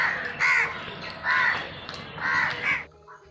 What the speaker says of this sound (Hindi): कौवा को इंग्लिश में बोलते हैं क्रो